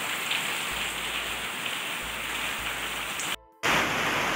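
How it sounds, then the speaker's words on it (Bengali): Heavy rain pours down in a constant hiss, briefly cutting out near the end before the downpour resumes, with no voices. "আওয়াজ শুনেই তো বুঝতে পারছেন যে কতটা জোরে বৃষ্টি পড়ছে"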